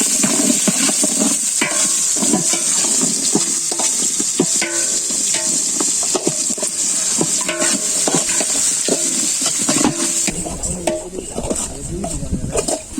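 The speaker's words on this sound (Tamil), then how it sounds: "நல்ல வெங்காயம் எல்லாம் வதங்கிடுச்சு" Onions and spring onions frying in a pan for turkey gravy sizzle steadily, with frequent clanks and scrapes of a spoon stirring, close and loud, and a brief change in texture near the end.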